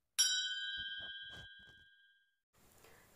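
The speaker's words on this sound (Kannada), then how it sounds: "ಬೆಲ್ ಬಟನ್ನ ಕ್ಲಿಕ್ ಮಾಡಿ." A single bright notification-bell ding rings out and decays slowly over about two seconds. A few soft clicks follow, then faint background noise.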